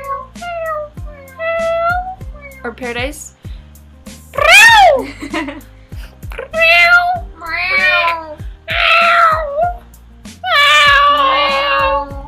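A cat meows repeatedly, loud and close, in a string of rising and falling cries with short gaps, over a steady rhythmic background and occasional speech.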